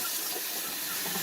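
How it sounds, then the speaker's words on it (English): Water runs from a kitchen tap during hand washing in the middle of preparing pork chops, giving a steady close hiss that holds even throughout the moment. "one thing I always do is I wash my hands"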